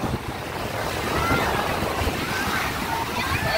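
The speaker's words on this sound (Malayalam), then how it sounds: "തിര വരുന്നേ ഉള്ളൂ." Sea waves washing in at Alappuzha beach, a continuous broadband rush of surf with wind buffeting the microphone, fairly loud and steady throughout.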